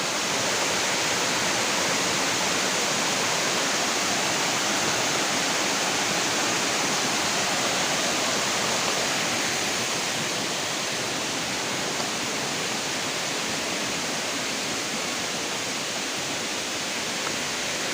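A steady, dense rush of falling water roars without pause, loud and close, with no voices, at Nang Khruan Waterfall in Tak Province, Thailand.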